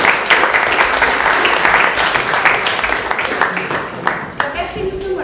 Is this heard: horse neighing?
no